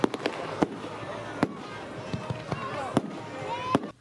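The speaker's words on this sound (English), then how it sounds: "cue the fireworks cue right now" Fireworks pop and crackle in a series of sharp bursts at irregular intervals, with whistling trails between the bangs, celebrating a 40th season.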